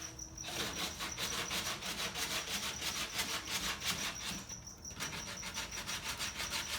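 Rhythmic rasping strokes from filing and shaping Bondo body filler on a wooden prop for a Nightmare Before Christmas sleigh, close and steady throughout with a brief pause near the end, no talking.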